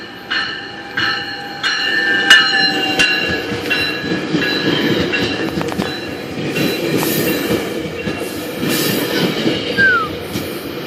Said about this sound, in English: An express. Express GO train.